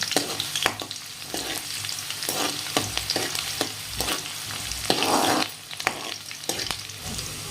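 Ginger, garlic and green chilli frying in hot oil for street-style veg fried rice, a steady close sizzle broken by repeated scraping stirs of the utensil, with no voices.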